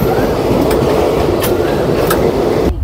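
The Shri Ganganagar - Rishikesh Express rolls steadily along the rails, giving a loud, continuous rumble with faint rhythmic clicks from the wheels under a cloudy sky.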